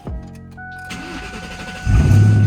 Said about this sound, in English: So the car started.